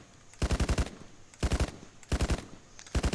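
Automatic gunfire sweeps across a field in the military shooter Arma 3. The bursts come in four short, loud, rapid volleys of four or five rounds each, separated by brief pauses.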